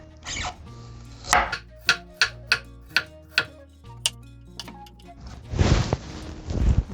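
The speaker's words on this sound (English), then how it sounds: "Going to start with cutting the vegetable. Start from the carrot." A knife chops carrots on a cutting board in a steady run of sharp, evenly spaced thuds for Thai glass noodle salad, close and clear, with a rustle of handled vegetables before and after.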